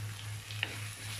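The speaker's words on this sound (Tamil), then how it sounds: "வெங்காயம் தக்காளி பச்சை மிளகாய் எல்லாம் போட்டு நம்ம வதக்கியாச்சு" Onion, tomato and green chilli sauté in a pan with a soft, close sizzle over a low steady hum, lasting only a moment.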